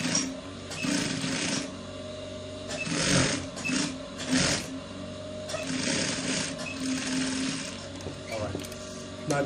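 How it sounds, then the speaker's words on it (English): Close sewing machine stitching a trouser waistband, a continuous rattling whir that swells and eases in short bursts as the fabric is fed, with a faint voice at moments beneath it. "so we continue our sewing"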